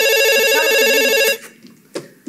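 A telephone rings with a loud electronic warbling ringtone for over a second, then cuts off abruptly, leaving a quiet room with a couple of faint knocks or clicks, in a theatre comedy scene.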